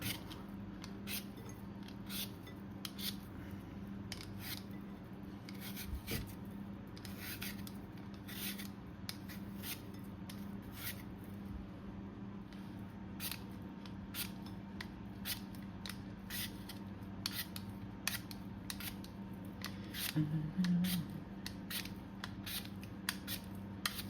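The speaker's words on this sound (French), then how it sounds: "Je suis en train de lui raser la barbe." A beard being shaved, with repeated short scraping, snipping strokes in an irregular rhythm, close and fairly quiet over a low steady hum.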